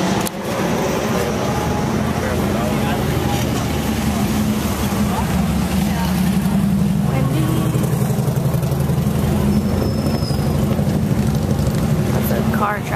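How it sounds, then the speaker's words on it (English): Street traffic in Key West rumbles past with a continuous mid engine drone and passing vehicles, steady through the scene with a voice talking over it. "Car traffic there."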